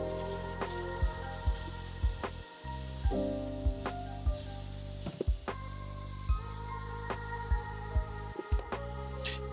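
Roux being stirred into a sizzling mac and cheese sauce in a pan, with steady frying hiss under repeated sharp clinks and scrapes of a utensil against the pot, close and fairly loud, no talking.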